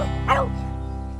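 Dogs barking in a children's nursery-rhyme show, a brief bark burst over a steady droning background hum.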